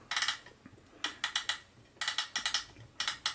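A Greist rotary buttonholer attachment on a sewing machine turns by hand, giving bursts of quick, close clicking and ratcheting in four regular groups, with no voices.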